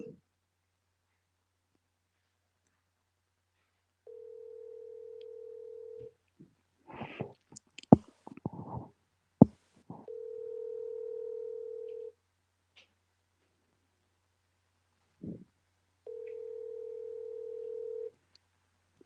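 A telephone rings unanswered on the line, with steady ringback tones repeating at regular intervals, interrupted by some clicks and handling noise between rings.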